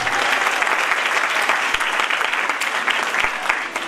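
Clapping from a student audience at a talk on love: a thick, continuous burst of applause from many hands, loud and steady throughout with a few sharper claps standing out.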